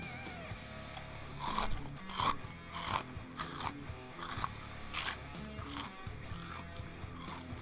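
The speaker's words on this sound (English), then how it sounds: "I love just crunching Chex Mix into the microphone." Chex Mix crunched loudly right into a microphone, a series of sharp close bites and chewing crunches in an irregular rhythm with no talking.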